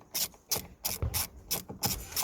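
Rhythmic ratcheting rasp from a hand tool working a bolt loose on a VW Golf door mirror, seven regular bursts about every third of a second, close and clear with no talk.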